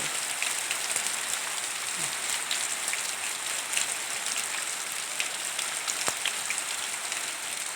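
Steady heavy rain pours down on a rubber plantation garden on a Buddhist holy-day morning, a dense continuous hiss of drops on surfaces with no pauses, close and even throughout.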